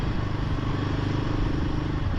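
A freshly serviced Royal Enfield Himalayan 450 motorcycle is ridden at steady speed, giving a continuous engine drone mixed with broad road and wind rush and no talking.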